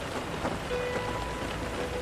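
Heavy, high-intensity rain, with a dense, steady hiss of rainfall on surfaces filling the whole moment and no voices.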